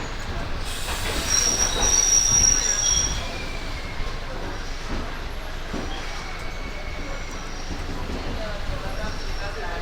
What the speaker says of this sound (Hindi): train is डिपार्चरिंग to railway